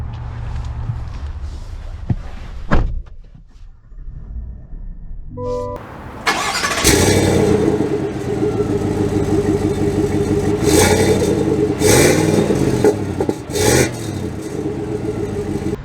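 A 2022 GMC Sierra 1500 SLT pickup: a door thunks shut, then the engine cranks and catches with a loud start, settling into a steady idle with a couple of sharp revs near and clear, no voices.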